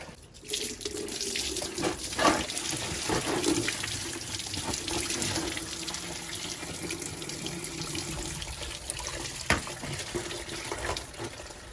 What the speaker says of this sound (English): That's going to allow all of the coolant to drain out of the radiator.